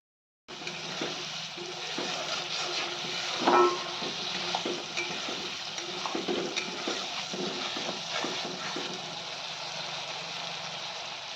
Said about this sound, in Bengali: তারপরে নেড়ে চেড়ে কষিয়ে নেব এরকম অল্প অল্প পানি দিয়ে দুবার তিনবার কষিয়ে